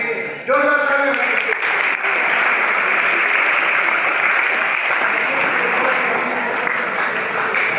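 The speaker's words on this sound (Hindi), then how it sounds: "जोरदार तालियां।" Loud, sustained applause from an audience at a youth group gathering, starting abruptly after a brief voice and continuing as a dense, steady roar of clapping for several seconds.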